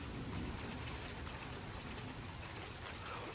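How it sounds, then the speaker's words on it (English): Heavy rain pours down steadily, a dense hiss of drops striking surfaces close by, constant and unbroken with no voices. "Here comes the rain."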